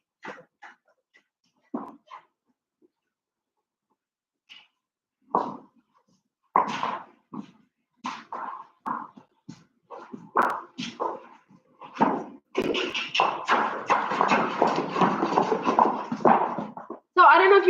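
Horse hooves trotting with a slightly uneven, off-beat rhythm, a run of close, moderately loud footfalls that grows denser and steadier toward the end, with sparse scattered impacts before it and no talk over it.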